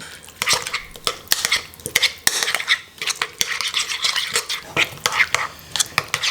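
Olive burger sauce being stirred and mixed in a bowl, with repeated clinking scrapes of a utensil against the dish in an irregular rhythm, close and fairly loud.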